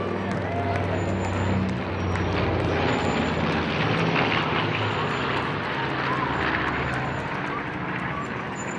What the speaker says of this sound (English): Yep, that's the B-25 Yankee Lady, a twin-engine bomber used by Allied forces.